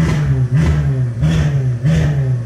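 A Porsche Panamera with a loud aftermarket exhaust revs close by, three rising engine surges in quick succession over a constant rumbling idle, with no talking.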